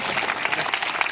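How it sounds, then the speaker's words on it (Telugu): Audience clapping at a devotional children's performance during a centenary birthday celebration, a dense steady burst of many hands lasting about a second, moderately loud with no voices over it. "మరొకసారి అందరూ గట్టిగా చప్పట్లు."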